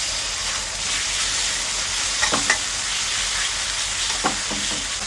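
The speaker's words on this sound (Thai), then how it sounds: "เราก็ใส่น้ำมันเลย แล้วก็หมูทอดกระเทียมพริกไทยที่หมักเอาไว้ ใส่ลงไปผัดเลยค่ะ" Marinated garlic-pepper pork stir-frying in hot oil, a steady broadband sizzle throughout with a few louder scraping stirs near the middle and end, no talking.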